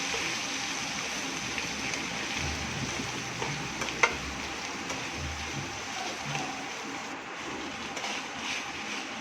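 Chicken pieces frying in a pan with ginger paste give a steady, continuous sizzle with faint stirring scrapes, close and moderately loud, with no talking.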